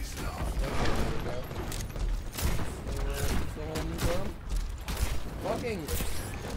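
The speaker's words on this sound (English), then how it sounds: "Dr. Junkenstein let off his bombs at the castle." Rapid, percussive bomb blasts pound continuously at a castle in the Overwatch 2 Halloween game mode, dense and loud, with rumbling bursts layered over one another.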